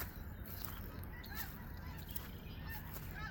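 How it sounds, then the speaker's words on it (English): Geese flying over a flooded pond bank in the morning honk repeatedly in a loose, overlapping chorus, faint and distant against a breezy outdoor background. "Here are the geese flying over this morning."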